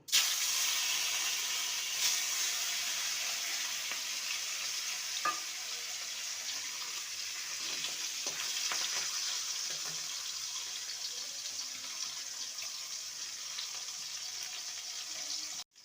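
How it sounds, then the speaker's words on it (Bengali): Fish pieces fry in mustard oil in a wok, giving a steady, bright hiss and sizzle with occasional small pops, fading slightly toward the end with no voices. "কড়াইতে সর্ষের তেল দিয়ে দেব প্রথমে মাছগুলোকে ভেজে নেব"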